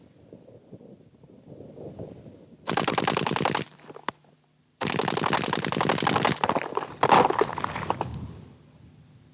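Two loud, rapid bursts of small-arms automatic fire hammer into a brick wall, the first about a second long and the second longer, separated by a short silence and set against faint outdoor wind.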